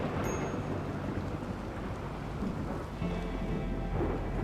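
A thunderstorm in the Rimworld video game plays as a steady hiss of heavy rain with a low rumbling undertone, continuous and moderately loud, with no talk.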